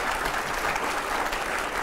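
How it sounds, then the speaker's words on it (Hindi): Steady audience applause from an interview event crowd, dense and continuous clapping filling the whole moment at even strength without talk. "मैं चाहूंगा एक बार जरा जोरदार तालियां हो जाए"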